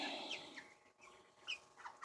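Six-week-old meat chickens clucking softly, a few short, faint calls scattered over two seconds with quiet pauses between.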